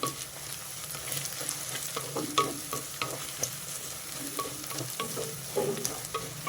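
Asafoetida sizzling and frying in a pan for a gongura tomato curry, a steady close crackle with stirring scrapes and no talk.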